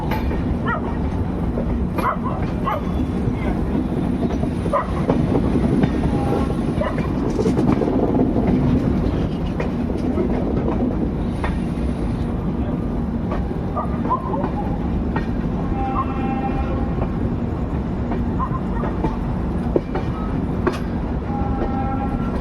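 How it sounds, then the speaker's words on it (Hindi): Continuous track noise from the 18574 Bhagat Ki Kothi Vishakapatnam Express as it runs toward Jaipur Junction, a loud steady rumble with clickety-clack rhythm, scattered metallic squeals and a faint horn over it. "आप लोग तो जयपुर जंक्शन पहुंचने तक ट्रैक साउंड को एंजॉय कीजिए"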